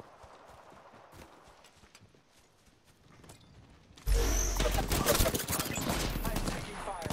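Gunfire in the Apex Legends video game, starting with faint distant shots and scattered footsteps, then erupting into loud, dense rapid bursts of close weapon fire that continue to the end.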